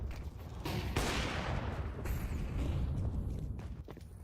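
Pistol shots and footsteps in Counter-Strike 2 during a professional G2 match, with several sharp cracks and a steady patter of movement over a dense, busy game mix.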